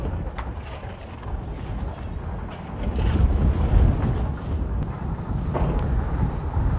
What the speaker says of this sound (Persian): متاسفانه امروز در این ساحه خیلی باد زیاده، ممکنه صدای از ما خوب نباشه